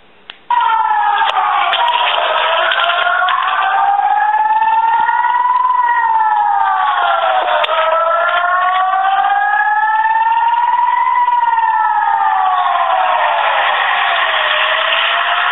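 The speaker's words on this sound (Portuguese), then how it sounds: "Quando as sirenes de advertência de ataque soam" An air raid attack warning siren wails continuously, its pitch sweeping slowly up and down in long loud cycles after a brief quiet start, with no voices over it.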